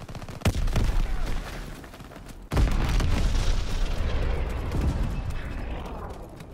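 A stun grenade goes off in Call of Duty: WW2 on the Egypt map, a sharp close blast followed by a second heavy boom and a long ringing, rumbling tail amid game gunfire.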